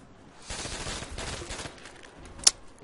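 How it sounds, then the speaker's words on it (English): Carbine gunfire in a Call of Duty zombies game on the Nacht Der Toten map, a quick flurry of moderate shots over about a second, followed by a sharp brief click or ping. "Let's use the carbine for a bit, because I want to preserve my ammo"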